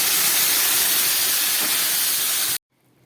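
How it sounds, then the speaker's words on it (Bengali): Water poured into a pan of hot vegetable curry hisses and sizzles loudly and steadily for about two and a half seconds, then cuts off abruptly to near silence. "এবার আমি দিয়ে দিচ্ছি জল।"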